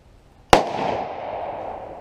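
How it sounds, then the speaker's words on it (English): A Mossberg Compact Cruiser 500 pistol-grip shotgun fired one-handed outdoors lets off a single sharp, loud blast followed by a long, fading rumble of echo. "I'll do some one-hand shots."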